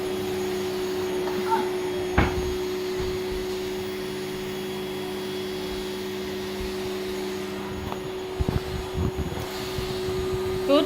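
A vacuum cleaner runs steadily throughout, a constant whining drone at moderate distance, with occasional knocks and bumps as it moves over the floor.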